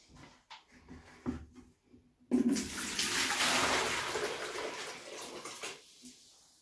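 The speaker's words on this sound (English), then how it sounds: "So I'm just going to tip this out into a bucket." Water from an algae culture tank gushes into a bucket in a steady rushing pour lasting a few seconds, then trickles off, preceded by quiet handling knocks.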